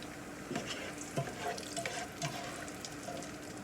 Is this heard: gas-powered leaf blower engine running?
no